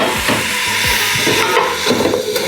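Chopped onions and carrots sizzling in a covered soup pot, cooking for Italian wedding soup, with a steady close crackling hiss and a few faint soft knocks underneath.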